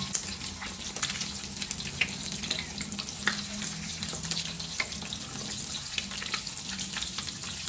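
Mackerel deep-frying in hot oil, a steady dense crackling sizzle with scattered sharper pops running throughout, fairly close and alone without talk.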